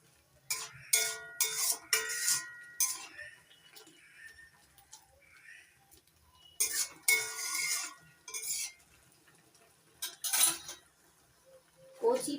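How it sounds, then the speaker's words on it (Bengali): A spoon scrapes and knocks against a cooking pot while jute leaves are stirred, giving several loud, sharp metallic clinks in short clusters over a quiet background, with faint speech in the room. "নাড়াচাড়া করে দিচ্ছি।"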